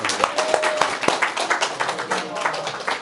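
Applause from a Korean workshop gathering honoring a teacher, Kim Mi-suk, for her service as secretary general: dense, steady clapping from a small indoor audience with a few sharper claps and faint voices mixed in.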